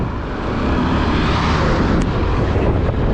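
A Suzuki Address 125 scooter rides along a road, its engine drone and wind rush forming a loud, continuous roar with no talk.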